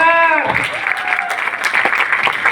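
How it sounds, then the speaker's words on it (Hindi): An audience at a meeting bursts into loud, close applause for a leader, steady dense clapping lasting the whole moment. "जोरदार तालियां हमारे ग्रेट लीडर आनंद बंसल सर के लिए"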